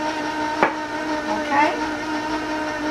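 An electric mixer runs on low speed, working flour into a Sicilian cookie dough with a steady whirring hum and a brief clack of the beaters against the bowl.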